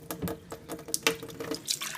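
Water trickles from a Watts Pure UF-3 ultrafiltration faucet at a modest flow, a close, continuous splashing patter into a sink with no voices.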